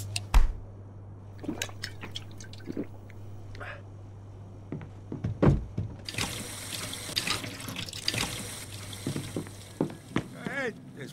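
Hot water running from a tap in the Mafia II video game, a steady broadband hiss setting in midway and continuing to the end, with scattered clinks and a voice speaking over it.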